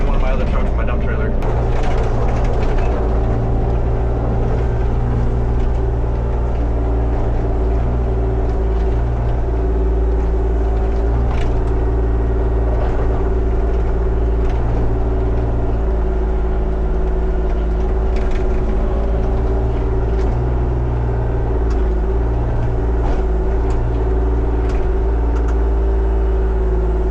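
An old dump truck's engine runs steadily throughout, a loud low rumble with a constant drone and occasional clatter, while someone talks over it.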